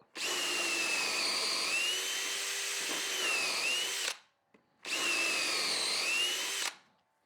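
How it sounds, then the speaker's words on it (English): A hammer drill bores with no vacuum attached, giving a loud steady whining roar for about four seconds, then a short pause and a second burst of about two seconds, both close and with no voices. "So now we're just down to the hammer drill."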